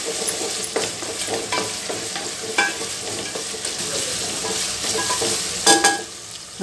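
Chopped tomatoes sizzle and fry in a hot pan for an avalanki chitranna tiffin, with a spoon scraping and stirring through them in a constant, close clatter and no talking.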